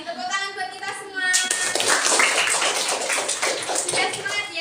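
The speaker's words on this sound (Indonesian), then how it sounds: "Tepuk tangan buat kita semua" A classroom group claps together right after a teacher's spoken cue, producing a burst of dense, steady hand clapping that runs to the end.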